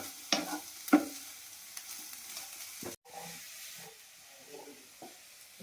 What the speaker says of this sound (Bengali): আলু ভাজিটা এবারে নামিয়ে নিচ্ছি। সাদা সাদা আলু ভাজি হয়েছে